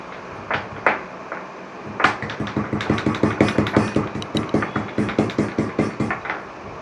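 Garlic cloves and a chopped green chili being crushed, a run of steady rhythmic thuds and pounding strikes, a few isolated blows first and then a fast even series, close and fairly loud with no talk.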